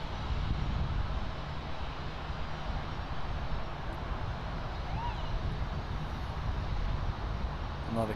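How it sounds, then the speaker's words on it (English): A Boeing 737 airliner lines up on runway 9 at Miami International Airport, producing a steady, broad engine roar with wind noise that holds evenly throughout, fairly loud and continuous. "And we have the 737 lining up here on runway 9er."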